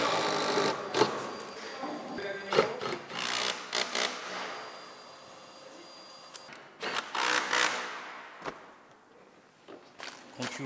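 Power drill driving screws to fix climbing holds onto a bouldering gym wall: repeated short whirring bursts, some close and loud, others quieter, separated by pauses and faint background noise.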